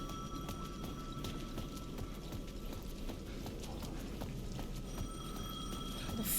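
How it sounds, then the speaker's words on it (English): In Alan Wake 2, a payphone at the edge of a plaza rings faintly and steadily in the background, its tone continuing under low ambient game noise and scattered soft clicks. "The payphone at the edge of the plaza was ringing again."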